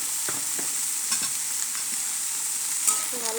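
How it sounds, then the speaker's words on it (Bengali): Chopped tomatoes fry with softened potato pieces in a pan and get stirred, giving a steady high sizzle broken by several soft scraping strokes from the spoon, with no talking. "ভালো করে নাড়িয়ে নেব।"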